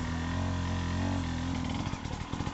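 Enduro motorcycle engine at the Romaniacs race runs loud and close, holding a steady drone before breaking into uneven revving.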